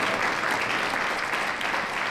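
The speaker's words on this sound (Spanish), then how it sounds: "con la maestra Hilda Tellez Lino, para la que pido un fuerte aplauso." Steady, dense applause from an audience at a women's forum panel, constant and fairly loud throughout without any talk.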